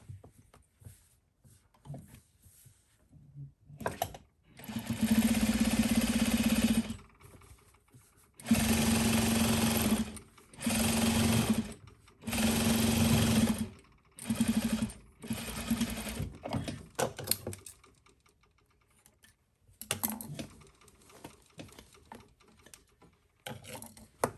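A sewing machine top-stitching a white bustier party dress, running in several loud, close bursts of rapid whirring separated by short pauses, with no talk.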